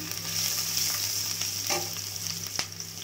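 Ginger and garlic paste frying in oil with browned fried onions for a prawn curry, a continuous close sizzle with a few soft stirring scrapes and clicks, no talking.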